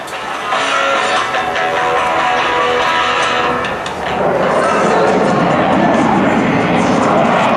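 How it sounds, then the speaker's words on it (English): An F/A-18F Super Hornet roars loudly overhead during an air show demonstration, its jet engines producing a sustained, powerful rumble that surges as it pulls an abrupt nose-up maneuver and pitches over. "Outstanding pitch authority as the aircraft rolls upright and performs an abrupt nose-up maneuver followed by a quick pitch over."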